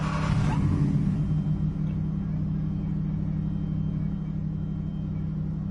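Race car engine in Assetto Corsa Competizione on PS5, a steady loud idling rumble with a deep low drone, a short rev flare at the start, then holding even with no talk.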